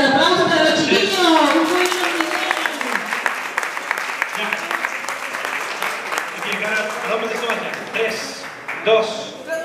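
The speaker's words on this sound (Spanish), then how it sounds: "¡Un aplauso para los chiquillos!" A crowd claps for children after a street dance battle in Calbuco, the applause rising as a loud, steady patter that fades near the end, with an announcer's voice heard over it at the start and again at the close.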